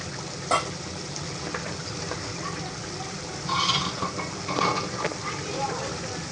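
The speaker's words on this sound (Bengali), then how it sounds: "এখন আমি এখানে সবজিটা দিয়ে দিব" Latkan vegetables go into a pan of frying masala and dried chepa shutki, a close steady sizzle with a clatter and bursts of stirring and scraping, under someone talking.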